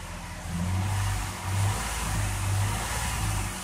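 A car engine accelerates in three rising surges, each swelling and easing back with a steady mid-pitched drone, loud and close with no talk.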